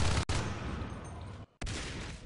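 Shotgun fire in the game Natural Selection 2, a dense burst of loud blasts with a sharp crack near the start and an abrupt brief dropout before the firing resumes.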